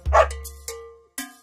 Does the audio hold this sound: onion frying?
no